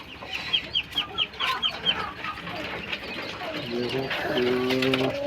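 Kalij pheasant chicks and other poultry on a small integrated farm in Nawalparasi, Nepal, give a run of rhythmic clucks and chirps close by, followed by louder, sustained calls and a voice.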